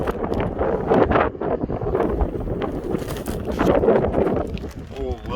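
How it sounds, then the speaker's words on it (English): Gusty November wind buffets the microphone outdoors in continuous, loud rumbling bursts, with a person talking partly underneath. "windy November day"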